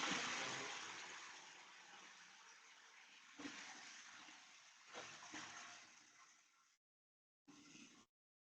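Water running hard from a tap in a school toilet, a steady loud rushing stream that fades, cuts out, then briefly gushes again.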